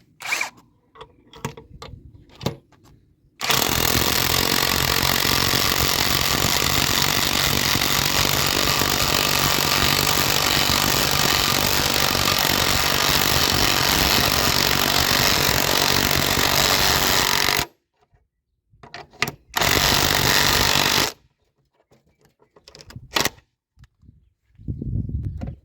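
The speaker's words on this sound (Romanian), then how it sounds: "Am zis că merg cu cea de 12 volți la gaura asta." A Parkside 12V cordless impact driver driving into wood, a loud continuous rattling hammer roar lasting about fourteen seconds, then short bursts after a pause, with no talk.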